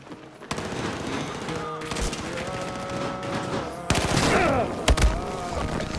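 Rapid automatic gunfire from a weapon in the Battlefield 4 video game on PS4, loud bursts of fusillade with booms, continuing under players' excited voices.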